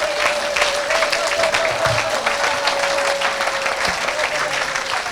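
A church congregation at an evangelistic service claps and cheers for Jesus in a loud, sustained burst of applause from a large crowd, with a faint steady tone running beneath.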